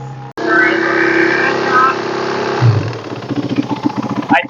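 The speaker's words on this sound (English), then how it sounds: "now it's idling nice" An EFI 450 dirt bike engine runs close by, a steady buzzing drone that drops to a lower, uneven idle pulse after a moment, with a person talking over it.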